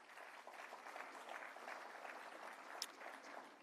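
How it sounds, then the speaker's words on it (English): Audience applause fills a conference hall at the opening session of a Caribbean poultry association meeting, a steady dense patter of many hands clapping for several seconds with one sharper clap near the end. "give yourselves a round of applause"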